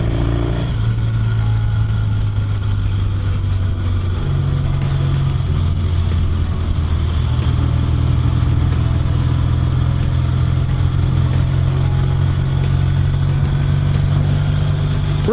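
A 1968 Triumph T100R Tiger Daytona motorcycle engine drones steadily while being ridden, a loud, continuous throaty hum that shifts pitch slightly as revs rise, with wind noise over it.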